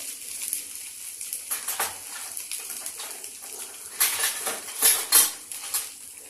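Utensils clink and scrape in a kadai as grated ginger goes in for Bengali-style rohu fish curry, scattered metallic taps and scrapes, louder toward the end, with no talking.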